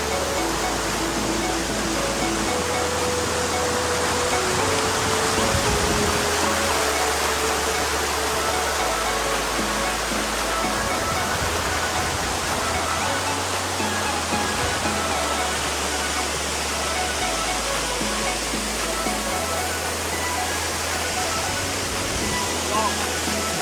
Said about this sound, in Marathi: इथून बरोबर वरपर्यंत जायचं आहे किती मस्त वाटतं वॉटरफॉल वातावरणावरती